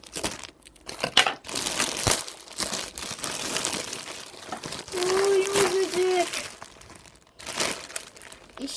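Plastic packaging crinkles and tears as a Huggy Wuggy toy is unwrapped, with irregular rustling and crumpling close by and a voice talking at times.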